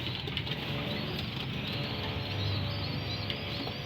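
Young racing pigeons coo softly inside a loft, a low steady murmur of overlapping calls with faint wing flutters, close and continuous throughout.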